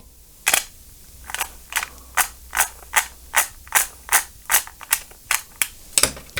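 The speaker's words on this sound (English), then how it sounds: "the best way to wind your cassettes with a piece of stationery is to use a Bic biro" Cassette tape wound by hand with a Bic biro pen stuck in the reel hub, producing a regular series of about thirteen sharp ratcheting clicks, close and crisp, with no voices.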